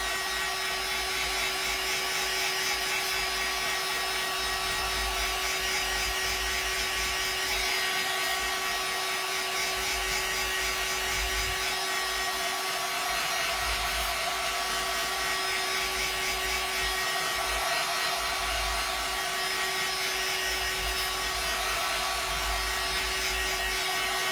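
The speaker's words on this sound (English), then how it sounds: "I know this is noisy, guys, with the dryer" A hair dryer whirs continuously at close range, a steady airy roar with a high whine that holds unchanged throughout.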